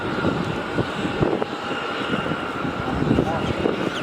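A Scoot Boeing 787-9 Dreamliner airliner at Melbourne Airport gives a steady, distant engine roar and rumble, with a person talking over it.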